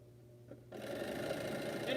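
A sewing machine stitching nine-patch quilt blocks starts up after a brief quiet moment, then runs in a steady, fairly soft mechanical whir with a fast repetitive clatter.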